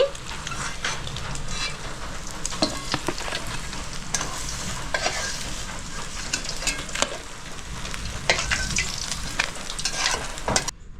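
Potatoes frying in oil left from frying fish heads, a steady close sizzle with frequent stirring scrapes and sharp spatter pops throughout, no voices.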